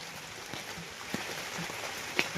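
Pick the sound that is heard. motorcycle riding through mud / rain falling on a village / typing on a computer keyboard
rain falling on a village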